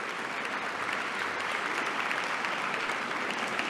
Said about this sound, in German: Klatsch, klatsch, klatsch.